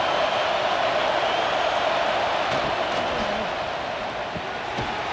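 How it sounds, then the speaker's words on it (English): Stadium crowd at a Texas Longhorns versus Ohio State Buckeyes college football game roars steadily during a red zone defensive stand, a dense continuous wall of noise under a commentator's voice. "This crowd is trying to inspire this defense to make a big red zone stop"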